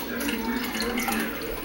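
Candle scent oil poured into a container of melted wax, a soft continuous trickling liquid sound lasting under two seconds, steady and close with faint background hiss.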